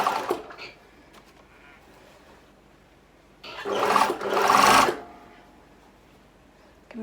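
A sewing machine stitches a sleeve into a garment without pins. Near the middle, one loud whirring run of the motor lasts about a second and a half, with quiet handling noise before and after it.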